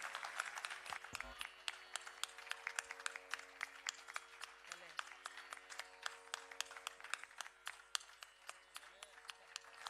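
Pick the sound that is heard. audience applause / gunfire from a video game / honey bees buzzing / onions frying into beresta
audience applause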